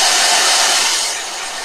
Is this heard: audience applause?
no